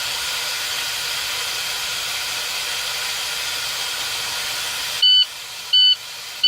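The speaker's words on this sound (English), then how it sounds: "Once again, our visual and audible alarm." Truck air brake system warning alarm during an air system test: beeps sound near the end over a steady hiss of escaping air, three short tones spaced about half a second apart.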